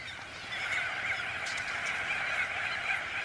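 Steady chorus of honking calls from thrush-sized birds in breeding plumage in the Russian wild, many voices overlapping continuously at moderate distance.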